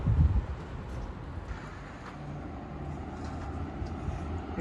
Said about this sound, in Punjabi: ਇੱਕ ਆ ਗਈ ਟਰਾਮ